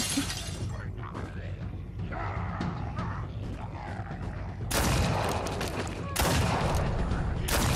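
Gunfire from the zombie shooter game Contagion, dense crackling shots over a loud, rumbling game soundscape, with heavier bursts near the end.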